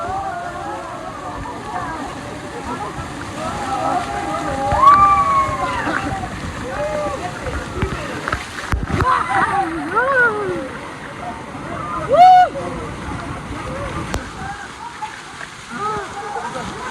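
Water from a waterfall splashes and rushes steadily where people bathe in cold water, with several voices talking and calling out over the wash throughout.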